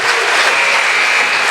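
Steady, dense applause fills a high school gym during a boys' basketball sectional semifinal as seniors are honored, a continuous wash of clapping from a large crowd with no pauses.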